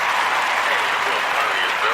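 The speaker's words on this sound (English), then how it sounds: "Let's give a round of applause to Brann, Livez, my brothers and sisters." An audience gives a round of applause for a special guest recording artist, dense steady clapping with crowd noise and voices mixed in.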